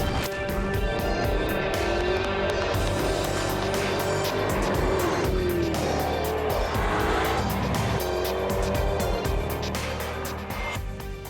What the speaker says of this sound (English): it's a supercharged 5-litre V8 that packs quite a punch